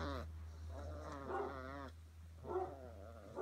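Five-week-old Basset Hound puppies in a litter yipping and whining in short, high, wavering cries that come and go in bursts; close by, over a steady low hum.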